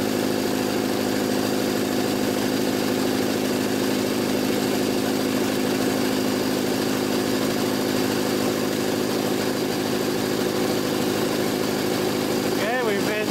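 A Jenny air compressor pumps continuously at a steady, loud, even drone with no pauses, close to the listener, with a brief clatter near the end.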